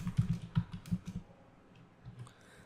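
Fingers tap a computer keyboard in a quick burst of close clicking keystrokes, followed by a pause and then a few lighter taps.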